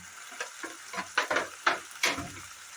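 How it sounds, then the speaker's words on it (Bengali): Bengali masala with turmeric and salt is sautéed in oil for a fish head and cabbage dish, with six or seven separate spluttering bursts and stirring scrapes over a soft background sizzle, close by and without speech. "এবার মশলাটা আমি ভালো করে কষাবো।"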